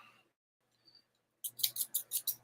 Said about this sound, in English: Oh, I got the scissors.